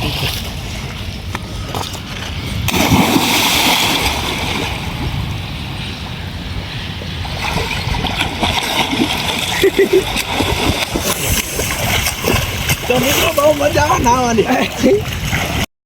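Continuous splashing and churning water up close, with people talking and shouting over it throughout.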